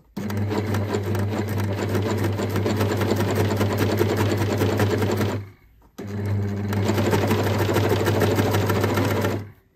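A coverstitch sewing machine runs a seam at steady speed, giving a loud, continuous mechanical hum with rapid needle clatter. It stops briefly and then starts up again for a second run, close and with no voices.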